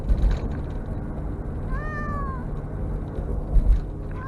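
A single drawn-out cat meow rises and falls over a low steady hum, with faint rustling before and after.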